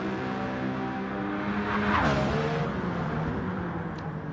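A Pagani GT1 race car in a racing video game sweeps past with a steady engine drone that swells near the middle, a short tyre squeal, then fades away, with no talk.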